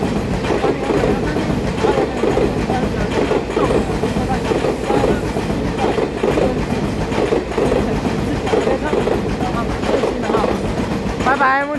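A single R173 diesel locomotive hauls a twelve-car EMU3000 intercity train past a level crossing near Ruifang, Taiwan, on a deadhead run from Hualien to Qidu. A loud, close, continuous rumble and rhythmic wheel clatter rolls by, with voices mixed in.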